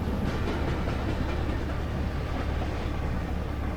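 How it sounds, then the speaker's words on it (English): A locomotive running alone without cars in American Truck Simulator, heard as a steady, loud rumbling drone with faint rhythmic rail clatter that holds evenly throughout. "And it's just a locomotive."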